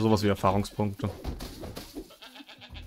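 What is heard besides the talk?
sheep bleating in the video game Bang-On Balls: Chronicles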